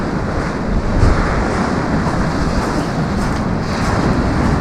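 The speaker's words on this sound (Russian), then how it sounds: "ветер сильный" Strong wind buffets the microphone on the Lazarevskoye seashore, with steady surf roaring underneath in a loud, continuous wash that never lets up.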